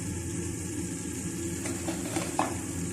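Mutton pieces hitting softened tomatoes in a hot pot for mutton yakhni pulao, giving a steady dense sizzle with stirring scrapes and a few louder spatters near the end, close up with no voices.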